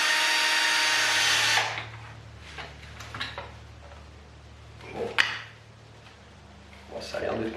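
A power drill drives a screw into the bolt-on neck of an Ibanez RG electric guitar, one loud burst of whirring at the start, then quieter handling clicks and knocks with a low hum underneath.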